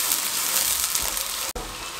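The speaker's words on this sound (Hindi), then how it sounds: "2 मिनट प्याज को इस तरह इसके अंदर भून लेंगे आलूओं के साथ" Onions softening with potatoes in a hot pan give a steady, close sizzle and crackle throughout, broken by one brief sharp dropout near the end.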